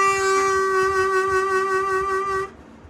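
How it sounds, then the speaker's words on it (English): A single sustained harmonica note, bent slightly and shaken into a quick, even wavering vibrato, then breaking off abruptly near the end. "what you're actually doing is bending the note down a little bit and then shaking it."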